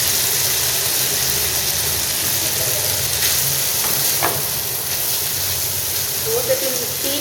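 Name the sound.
chicken frying in oil with green chili and garlic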